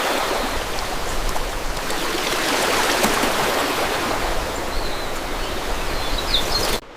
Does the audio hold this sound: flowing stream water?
yes